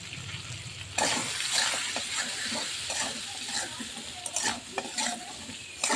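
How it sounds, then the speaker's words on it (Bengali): Potatoes frying in a pan with salt and turmeric, a close sizzling hiss that jumps louder after a second, broken by repeated clatters and scrapes of stirring. "এবার আলুগুলো একটু ভেজে নেব।"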